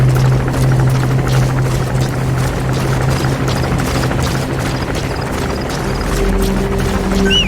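A helicopter's rotor in Metal Gear Solid 5 chops and drones steadily and loudly for the whole stretch, with a low engine hum underneath.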